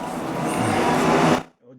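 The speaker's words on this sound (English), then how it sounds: "I'm gonna turn on my paint booth fan, so I apologize for that noise." Paint booth exhaust fan running at an airbrush workstation, a steady loud broadband whoosh that holds evenly and then cuts off abruptly near the end, leaving brief quiet.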